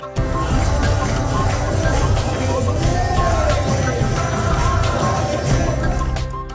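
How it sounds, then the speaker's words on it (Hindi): Dense crowd hubbub fills temples where devotees gather for Govardhan Puja worship of Lord Krishna, a steady, loud murmur of many overlapping voices with no single speaker standing out. "मंदिरों में भी श्रद्धालुओं की काफी भीड़ देखने को मिल रही है"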